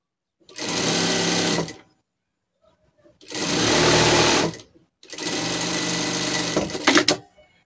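Three close, loud runs of a sewing machine stitching the tail of a fabric monkey puppet, each a rapid steady whir lasting one to two seconds with brief pauses between.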